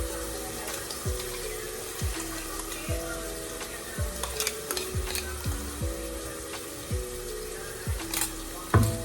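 Onion paste frying in oil for mutton gravy, a close crackling sizzle with repeated rhythmic spatula scrapes against the pan and a few knocks, no speech.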